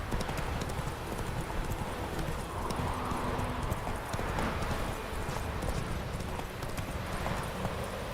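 In The Witcher 3, the horse Roach clip-clops at a steady, rhythmic pace, hooves thudding over continuous ambient game noise.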